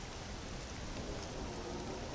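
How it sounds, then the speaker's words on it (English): Steady, dense rain falling in the Jedi Academy video game, an even hiss of drops spreading wide and holding constant throughout with no voices. "Ah, this rain's like acid."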